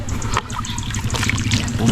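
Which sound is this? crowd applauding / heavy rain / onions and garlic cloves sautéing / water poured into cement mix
water poured into cement mix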